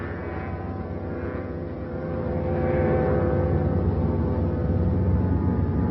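Several propeller airplanes flying together in formation in a film, a loud, steady droning engine roar that swells slightly midway and holds, with no talk over it.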